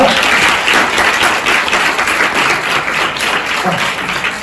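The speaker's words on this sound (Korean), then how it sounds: "박수로 환영해 주시기 바랍니다" Audience applause welcoming an award presenter at the closing ceremony of a debate festival, steady dense clapping filling the hall throughout without pause.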